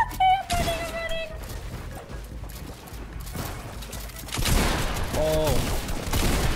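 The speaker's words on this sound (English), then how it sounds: "I'm getting shot at by someone else now." Gunfire in the battle royale game Fortnite, bursts of shots and impacts under a frantic player's voice, loud and close, with game sound effects mixed in.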